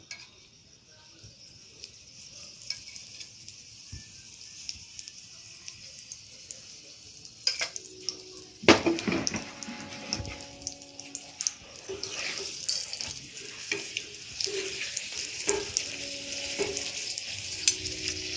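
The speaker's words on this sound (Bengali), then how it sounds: "তারপরে তেল দিয়ে এটাকে ভাজতে হবে।" Dal puri, a flatbread stuffed with chana dal, fries in oil on a pan, starting as a quiet hiss and swelling into a louder, crackling sizzle with sharp spits and scraping as it puffs up.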